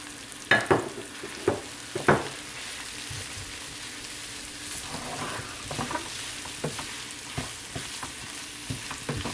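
Ground beef frying in a pan with sautéed vegetables for Jamaican-style tacos: a steady sizzle runs throughout, broken by several sharp scraping stirs near the start and lighter clinks later, close and without voices.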